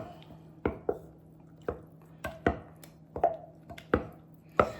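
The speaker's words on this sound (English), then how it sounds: "got my wooden spoon. And it says to stir in the pumpkin." A wooden spoon stirring pumpkin into pumpkin pie filling in a bowl, a series of distinct soft knocks and wet squishes spaced about half a second apart over a quiet background with a faint low hum.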